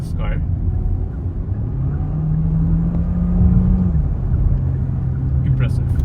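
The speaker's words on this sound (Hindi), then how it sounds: "so in the sport mode, if I punch this car" A Hyundai Tucson Signature AWD Hybrid in sport mode accelerates hard from inside the cabin, its engine tone rising steadily then settling under a continuous road rumble, with someone talking over it.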